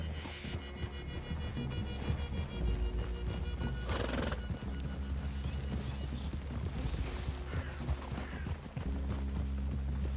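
Horses' hooves clip-clop steadily over ground while a horse whinnies in the video game Red Dead Redemption 2, set against a low ambient rumble.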